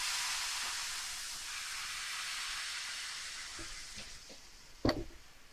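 Pancake batter frying in a pan makes a steady, soft sizzle and hiss with a few light clicks and a sharper clatter near the end. No one speaks.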